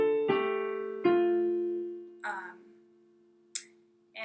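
Two slow piano chords ring out from a song, each left-hand A struck together with a right-hand G and left to decay, followed by a couple of faint softer touches.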